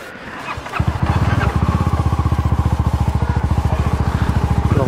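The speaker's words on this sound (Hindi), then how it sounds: "गाड़ी एटलीस्ट स्टार्ट हो रही है" Motorcycle engine in Lansdowne, Uttarakhand cranks briefly and catches, then settles into a steady, loud, close idle with a regular pulsing thump lasting several seconds.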